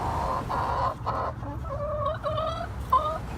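Several young hens in a backyard coop cluck and cackle in short, repeated bursts after laying eggs, close by, with a slightly sharper squawk near the end.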